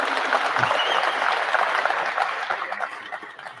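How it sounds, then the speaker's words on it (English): Dense, sustained applause fills a hockey press conference for the Windsor Spitfires' first-round draft pick, steady and full before slowly thinning into scattered claps near the end. "another round of applause for Ethan Belchez."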